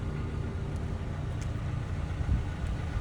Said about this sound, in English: The vehicle is running.